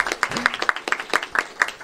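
Audience at an academic conference session clapping, a quick run of distinct sharp claps from a small group, close and brief, with a faint voice underneath.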